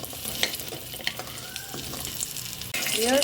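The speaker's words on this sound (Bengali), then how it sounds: "আমি যে বড়িটা আগে থেকে ভেজে নিচ্ছি একটু লাল লাল করে" Pumpkin bori (lentil dumplings) fry in oil until reddish, giving a soft, steady sizzle with scattered stirring clicks that swells louder near the end.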